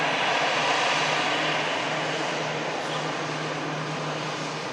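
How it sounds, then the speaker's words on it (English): A Brussels Airlines airliner in Star Alliance special livery comes in to land at an airport, its engines making a steady, broad roar with a low hum, fairly distant and fading slightly over a few seconds. "The airline of Belgium, Brussels Airlines, coming on in with a Star Alliance Special."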